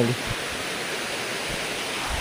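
A continuous rushing roar from Ashokjhar waterfall in Jajpur, steady and broadband, with a short burst of voice at the very start.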